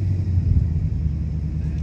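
A lightning-swapped truck engine idles after a cold start, a steady low rumble with a pulsing, lumpy beat that holds continuously at close range, with no voices over it.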